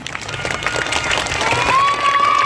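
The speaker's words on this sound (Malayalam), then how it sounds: "കയ്യടി കൊടുക്കട്ടോ. കയ്യടി കമ്മിയുണ്ട്." An audience claps at a festival stage show in Kottappuram, a short, steady patter of applause with crowd murmur and a thin whistling tone near the end.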